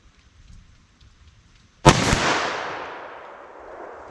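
A single 10mm handgun shot with a hunting soft point round, fired outdoors at a metal tank 50 yards away, a sudden sharp loud report with a long echoing tail after faint background noise.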